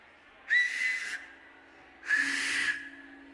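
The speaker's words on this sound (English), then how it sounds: "Should I whistle?" A person whistles twice to get a crowd's attention at a charity entertainment event, two loud sustained blasts about a second long each with a pause between.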